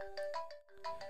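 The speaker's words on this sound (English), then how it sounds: "You can now see that the screen timer comes up and the phone starts to ring." A phone rings as an alarm from a co-driver app, playing a bright electronic ringtone in two short bursts with a brief gap between them. It is fairly faint and there is no talk.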